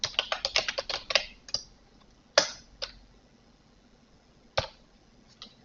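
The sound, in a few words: typing Prolog code on a computer keyboard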